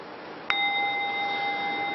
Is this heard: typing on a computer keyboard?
no